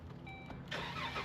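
A car engine cranks and catches after an alternator replacement, a short rising mechanical whir settling into a steady running hum, close by.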